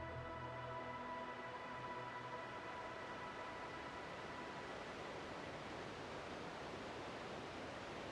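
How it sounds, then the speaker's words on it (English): Steady broadband rushing of a waterfall in a King's Quest-style adventure game, Golden Idol, continuous and fairly loud throughout, with a brief low tonal hum at the start and no talking. "There's waterfall."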